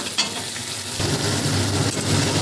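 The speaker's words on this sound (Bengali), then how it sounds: "আর একটুখানি কষাবো মশলাটাকে" Masala with turmeric fries and sizzles in a pan for katla fish curry, with a steady hiss and light scraping of stirring, close and unobstructed.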